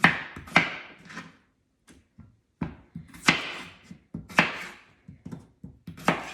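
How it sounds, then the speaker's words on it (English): Garden potatoes chopped into chunks on a cutting board, with a knife landing in sharp, close thunks at an uneven pace, some in quick pairs, separated by short pauses. "now I have my garden potatoes, and I'm also gonna chunk those up too"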